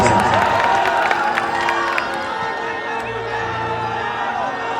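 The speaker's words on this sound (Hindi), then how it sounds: "एक जोरदार ताली बजा के आशीर्वाद दे दीजिए" A large crowd at a Bihar-linked political election rally cheers and claps loudly and continuously, with shouts rising over a dense wash of applause that eases slightly toward the end.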